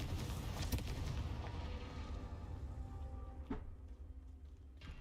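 In Hogwarts Legacy, a Confringo blasting spell goes off with a booming, rumbling explosion that slowly fades, followed by a couple of sharp impact cracks.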